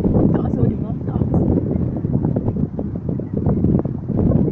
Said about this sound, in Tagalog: Lakas ng hangin. Yung simoy ng hangin malamig.